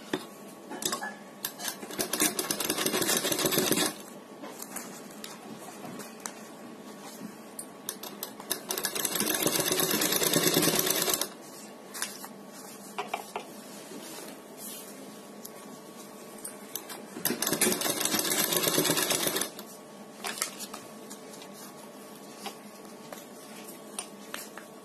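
Piping is stitched onto a neckline on a sewing machine that runs in three loud bursts of rapid whirring, separated by quieter stretches of small clicks and fabric handling.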